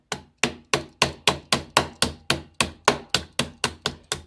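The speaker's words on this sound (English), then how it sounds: "When you're done, you just tappy tap tap until she comes out." Steady series of about fifteen sharp metallic taps, close and evenly spaced, as a small hammer knocks a part out of a reloading jig for .22 WMR and .17 HMR brass, with no talking.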